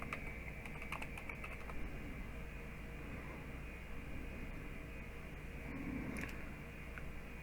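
Soft, scattered keystrokes on a computer keyboard sound faintly over a steady hiss of background noise, with a few clustered taps early and another near the end.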